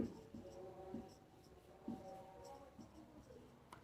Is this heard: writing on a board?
yes